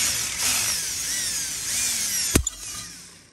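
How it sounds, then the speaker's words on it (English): A power drill fitted with a 3/16 bit whirs steadily while drilling out an aluminum pop rivet, ending with a couple of sharp clunks as the rivet gives way, close and fairly loud with no speech. "I'm gonna take this 3/16 drill bit, put it right there."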